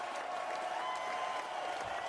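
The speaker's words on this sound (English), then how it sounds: "We had to do the applause." An applause sound effect plays during a live show, producing a steady patter of clapping from a crowd at moderate, slightly thin volume throughout.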